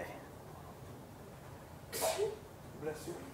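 A single sharp sneeze, followed by a smaller second burst, cuts through a quiet indoor room, fairly close and brief.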